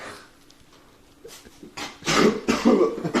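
A few harsh coughs, close and fairly loud, clustered near the end after a quieter stretch of faint background noise.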